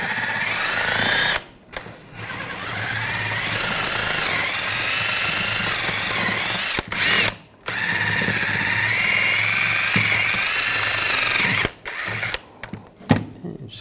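Wire brush scrubbing a front brake caliper bracket on a 2009-2017 Volkswagen Tiguan, a harsh, continuous rasping close by in long strokes with a few brief pauses.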